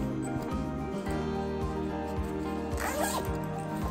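Zipper on the zip pocket of a travel bag packed for a trip, sliding in a few quick rasping pulls over a steady background of music.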